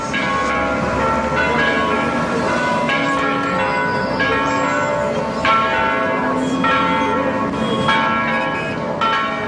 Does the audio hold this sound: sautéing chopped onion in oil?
no